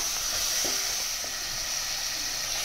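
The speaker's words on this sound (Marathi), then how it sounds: "आता ह्याच मसाल्यात मी हे माकूल व्यवस्थित परतवून घेतोय" Squid sautéing in a spice masala in a pan, a constant close hiss of sizzling with faint stirring touches, even and unbroken throughout without any talking.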